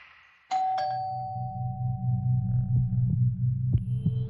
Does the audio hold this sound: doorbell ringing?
yes